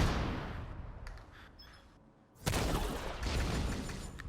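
A mortar in the shooter The Division 2 fires with a soft muffled thump, then a second heavier blast that breaks into a sustained rumbling barrage.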